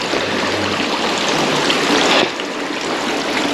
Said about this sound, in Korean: 이건 폭포네. 예전에 그 폭포네, 폭포.